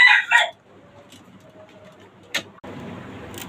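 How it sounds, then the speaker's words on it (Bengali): A red tiger-breed rooster and hens kept in cages on a small home farm give a short, loud burst of crowing and clucking at the start, followed by quiet background with a faint click and a steady low hiss. "এখানে আছে আমার লাল টাইগার মোরগ এবং মুরগি।"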